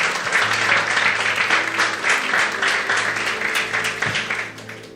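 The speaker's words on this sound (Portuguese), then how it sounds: "Você pode aplaudir ao Senhor?" A church congregation bursts into steady applause to praise the Lord during an evening sermon, a dense wash of clapping that holds for several seconds and then tapers off, with an organ-like tone sustained underneath.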